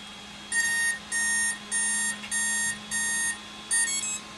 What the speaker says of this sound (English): So that was the startup sound for the motor